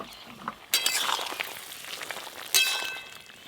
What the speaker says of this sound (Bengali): চাপা খুলে দেখি সেদ্ধ হলো কিনা।